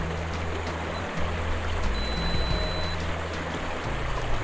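A creek at Koreelah Creek Campground flows steadily, a continuous broadband wash of water running over rocks, close and even in level, with a low drone underneath and no voices.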